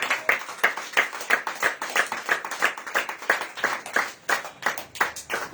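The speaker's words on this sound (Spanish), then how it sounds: "Den aplausos al Señor" A church congregation clapping in rhythm, a dense run of sharp, evenly spaced hand claps at a quick steady beat, close and continuous for the whole stretch.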